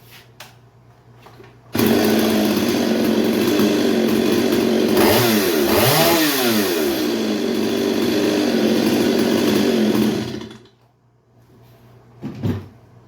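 A 30-year-old chainsaw fitted with a Hipa carburetor kit starts abruptly and runs loud and close for about eight seconds, revving up and back down in the middle before shutting off, then a short burst near the end.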